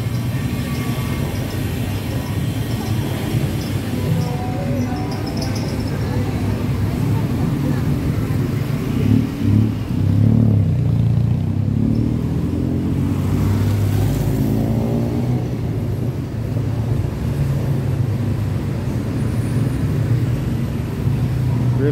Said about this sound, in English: 7 p.m. right now, so a lot of traffic.